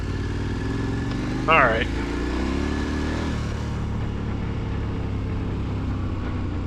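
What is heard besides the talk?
KTM 1290 Super Adventure R motorcycle riding on gravel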